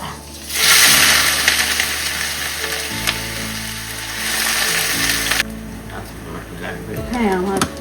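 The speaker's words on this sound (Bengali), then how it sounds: "আর এদিকে আমার তেলটা গরম হয়ে গেছে, আমি দিয়ে দিব আমার করলা।" Bitter gourd hits hot oil and sets off a loud, steady sizzle that swells and keeps crackling, with harmonic background hum and a voice chatting over the frying.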